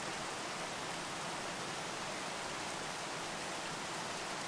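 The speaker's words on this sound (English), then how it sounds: "Notice the sounds of the rain on leaves and as it splashes the ground." Rain falls steadily on leaves and splashes the ground, an even, dense hiss of water that holds constant from start to end, soft and without any voices.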